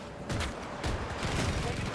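Gunfire in Battlefield 2042, a couple of sharp bursts of shots over rumbling game noise, fairly faint and distant-sounding.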